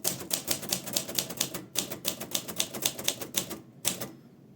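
Rapid, even keystrokes clatter from a Royal Aristocrat manual typewriter, close and crisp, with a brief pause before a final few strikes.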